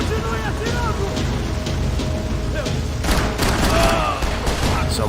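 Max Payne 3 gunfire crackles in rapid, dense volleys with heavy thuds, a sustained firefight under shouted voices and a louder burst of shots near the end.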